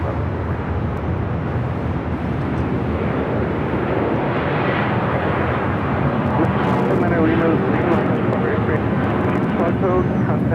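An airliner taking off from the south side runways at Los Angeles International Airport, a broad steady engine roar that builds slightly as it goes, with a radio voice talking over it.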